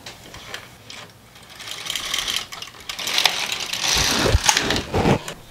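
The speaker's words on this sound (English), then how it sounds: "Now I can start to knit 1 row." A knitting machine carriage is drawn across to knit one row, giving a close mechanical whirring and clattering that builds in loudness toward the end of the pass.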